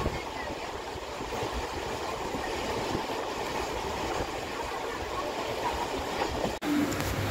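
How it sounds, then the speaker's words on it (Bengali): Inside a passenger train nearing NJP railway station near Rangapani, a steady low rumble and rattle of the carriage rolls on continuously at moderate level, with a brief cut near the end. "আর কিছুক্ষণের মধ্যেই ট্রেন ঢুকে যাবে এনজেপি স্টেশনে।"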